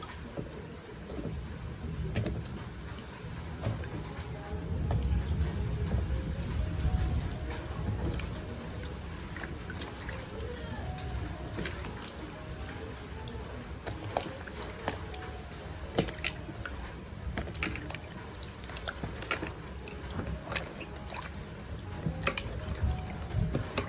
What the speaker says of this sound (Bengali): আমগুলো একটা একটা করে ধুয়ে নেব।